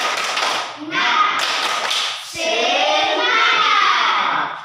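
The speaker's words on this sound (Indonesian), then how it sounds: "Tepuk semangat" A classroom of children does the 'tepuk semangat' spirit clap, a dense rhythmic burst of many hands tapping and clapping in patterned phrases. A brief pause breaks it midway before it resumes. Voices chant along underneath.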